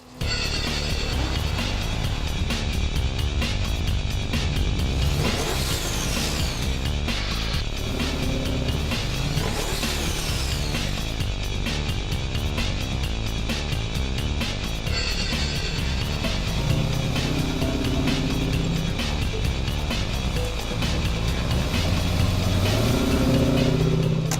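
A restored car's engine revs and roars loudly up close, rising and falling in pitch through repeated accelerations.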